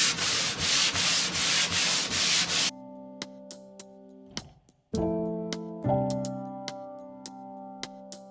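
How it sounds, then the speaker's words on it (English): A wooden suitcase dresser is sanded lightly to remove grime before priming, producing steady rhythmic rubbing strokes for about three seconds, then scattered knocks and a humming tone. "the first step I'm going to do is slightly sand this piece down"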